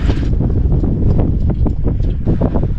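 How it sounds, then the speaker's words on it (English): Strong wind at North Lefroy buffets the microphone continuously, a loud rumbling roar with gusty bursts throughout. "Very windy here today on North Lefroy."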